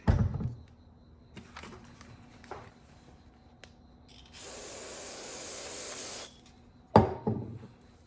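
A single sustained hiss of aerosol parts cleaner sprayed onto a rag for about two seconds, framed by soft rubbing and handling noises.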